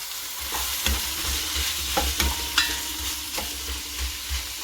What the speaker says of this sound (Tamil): இப்போ நல்லா வதங்கட்டும் வெங்காயம்.